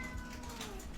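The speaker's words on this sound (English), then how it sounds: "My cat's meowing" A cat meows indoors, one drawn-out, wavering cry held for about a second, fairly close under a low background hum.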